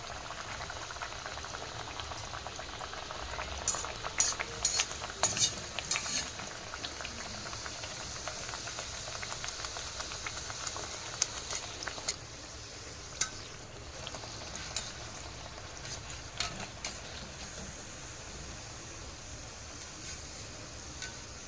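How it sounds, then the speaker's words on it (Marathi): Sweet potato gharge, a Navratri fasting snack, dropped one at a time into hot oil, giving a soft continuous bubbling fry with light crackles, fairly quiet and heard alone. "मी इकडे तेल पण गरम झालेलं आहे तर आपण एक एक घारगा सोडूया"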